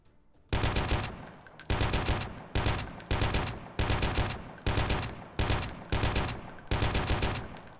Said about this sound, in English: I also love the sound of that machine gun when you pull it out.